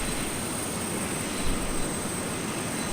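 Learjet jet engine in the flight game Air Hauler, a steady, loud broadband roar with a constant drone and faint high whine, unbroken and with no voices.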